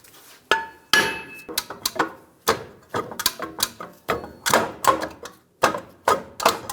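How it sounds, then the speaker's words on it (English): A hammer strikes the rear brake rotor of a 2011-2018 Ram 1500 to loosen it during an axle shaft replacement. The sharp metallic taps are close and loud, coming singly and in quick bursts with short pauses. "just using a hammer and tapping in these locations, be careful not to hit the studs,"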